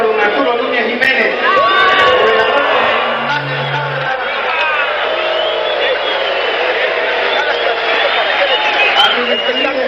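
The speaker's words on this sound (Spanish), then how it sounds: "Hagamos el abucheo sensacional al gobernador." A large political crowd at a rally for a governor roars and jeers continuously, a dense wash of voices with whoops and shouts, loud and sustained throughout, with an amplified voice briefly audible.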